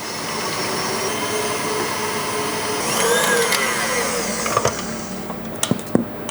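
A kitchen mixer whips cold cream toward chantilly with a steady broadband whir and a faint rising whine near the middle, then a few sharp clinks and knocks at the end; no one speaks.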